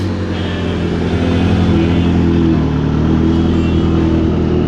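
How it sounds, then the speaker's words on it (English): Turbocharged McLaren 720S supercars at an exclusive outdoor car show, a loud, steady engine drone and rumble that holds throughout at close range, with crowd noise blended in. "Listen to all that turbo noise."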